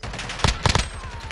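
Rapid automatic gunfire in Call of Duty Modern Warfare, with several loud close bursts of shots crackling over a busy game background.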